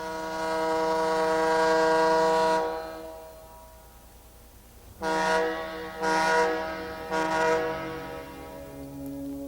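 A lighthouse foghorn blares in deep, steady blasts: one long drawn-out tone, then after a pause three shorter blasts in succession, loud and carrying.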